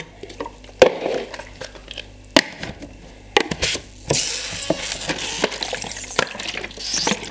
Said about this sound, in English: Just constantly agitate the stop.